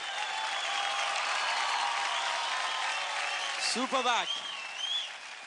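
Television studio audience applauds a dance act on a Hindi dance contest show, a loud sustained wash of clapping and cheering, with a host's voice speaking briefly near the end.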